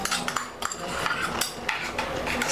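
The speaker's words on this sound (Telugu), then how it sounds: "ఆ ముక్కలు వేసి మిక్స్ చేస్తున్నాను అనమాట" Banana pieces being mixed in a bowl for Ugadi pachadi, with a utensil scraping and tapping against the bowl in quick irregular clinks over a steady background hiss.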